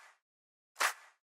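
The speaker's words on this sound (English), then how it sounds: "a nice kind of like softer clap as sort of like, I guess, the body of the sound" A single soft stereo clap, the first layer of a two-layer future house clap sample, lands alone as a gentle, airy burst with a brief tail, following the fading end of a previous hit.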